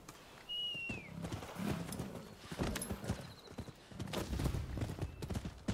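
Steady clip-clop of horse hooves at a walking rhythm in the video game Rise of the Ronin, with a brief whinny near the start and a faint bird chirp, moderately quiet.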